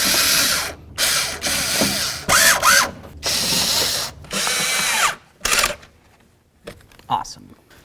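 Power driver snugging bolts into a door panel on a 1988-2002 GMC Sierra 1500, a series of loud close whirring bursts with ratcheting clicks, each a second or so long, separated by brief gaps and ending in quieter handling.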